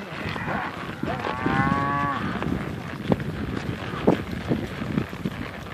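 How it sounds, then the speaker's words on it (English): A cow moos once in a long, drawn-out call over steady wind rumble, followed by scattered knocks and thuds nearby. "These are the cows."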